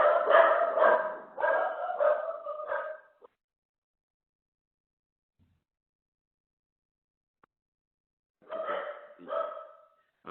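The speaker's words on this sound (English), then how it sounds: "I've got 2 dogs also that like to make noise at the most inappropriate times" Dogs bark in short repeated bursts at close range, a cluster of several barks followed by a long silence and then another pair of barks, with no talking over them.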